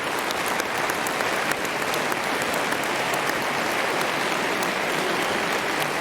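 Audience applause at the ICPC World Finals 2019 opening ceremony for local staff and host volunteers: a dense, steady clapping from a large crowd, sustained evenly for several seconds.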